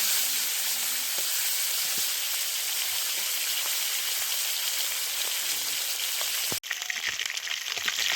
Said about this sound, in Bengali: তো এক এক করে সব মাছগুলো দিয়ে দিলাম।